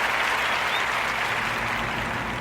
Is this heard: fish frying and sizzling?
no